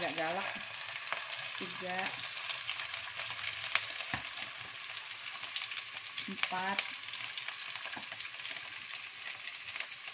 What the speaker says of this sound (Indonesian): minyaknya sudah panas. Sekarang saya akan masukkan bawang merah giling 1 sendok tehnya